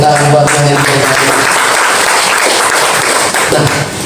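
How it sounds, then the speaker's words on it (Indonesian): A congregation at a worship service claps loudly and continuously for God, a dense close wash of applause with faint cheering, and a sung or spoken tone fading in and out beneath it. "Tepuk tangan buat Tuhan yang terbaik."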